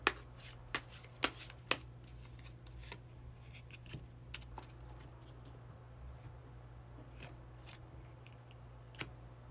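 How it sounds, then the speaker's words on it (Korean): Playing cards are shuffled in a quiet room to draw a hidden card, giving a cluster of crisp riffles and snaps at first, then sparse, softer flicks. "마지막으로 히든 카드 한 장 더 뽑아보도록 하겠습니다"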